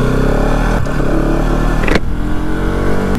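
Steady engine drone from a 2020 Bajaj Pulsar NS200 BS6 motorcycle while riding, loud and close with a deep bass tone, pitch shifting slightly around a couple of gear or throttle changes.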